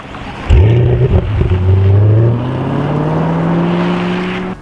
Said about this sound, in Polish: rozpędza się tam do jakiejś niewielkiej prędkości na napędzie elektrycznym, a potem wybucha dosłownie ta V8